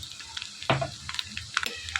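Onions frying in oil with turmeric and garam masala, cooking for egg noodles, sizzle softly while a spoon stirs with occasional scrapes and taps against the pan.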